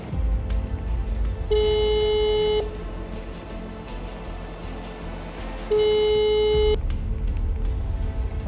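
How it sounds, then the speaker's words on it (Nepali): Telephone ringback tone of an unanswered call: two long steady tones about four seconds apart, heard over background noise in a news broadcast setting. "फोन लागिरहेको छ"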